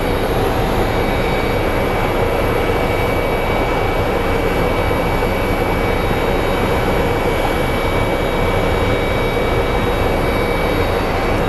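United airliner arriving at Phoenix Sky Harbor airport, a continuous loud jet engine roar with a steady high whine, constant and unbroken throughout, no voices.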